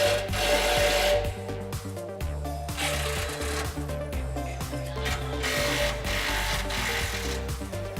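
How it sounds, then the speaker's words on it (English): Steady ratcheting and mechanical rattling from a 15mm socket wrench working the two rear muffler clamps under a 2009-2018 Ram 1500 5.7L, continuous and close with a layered metallic drone throughout, no talk. "Now we're going to loosen the 2 clamps on the rear of our muffler."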